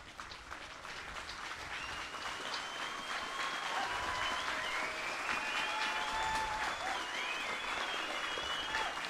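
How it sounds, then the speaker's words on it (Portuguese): Indigenous First Nations, Métis and Inuit people gathered to meet Pope Francis in Canada applaud steadily, a dense wash of clapping that swells slightly and holds, with faint voices mixed in. "Então os povos indígenas aplaudem as palavras do Papa."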